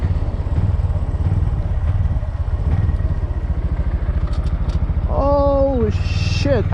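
Honda Grom motorcycle engine running loud and close with a steady rapid thrum, then rising in pitch as the rider shifts gear near the end, with a brief clatter.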